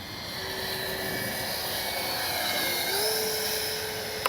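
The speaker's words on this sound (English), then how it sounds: "See, we get a nice low, slow pass here." A Freewing 70mm BAe Red Hawk RC jet makes a low, slow pass, its steady ducted-fan whine holding level and rising slightly in pitch near the end, with no talk over it.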